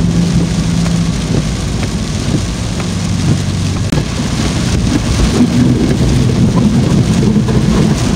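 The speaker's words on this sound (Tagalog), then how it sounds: "Ang lakas. Saka yung ulan. Super lakas." Very heavy rain pours down in Tinoc around a Toyota Hiace, a loud, dense, unbroken roar of drops hammering surfaces, with no voices over it.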